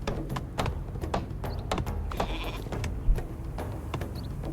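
Sheep bleating in the Viking strategy game Northgard, several short bleats scattered over a steady bed of game ambience and faint clicks, one louder thump near the end.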